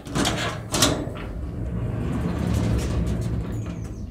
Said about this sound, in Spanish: lo primero que hacemos es abrir el garaje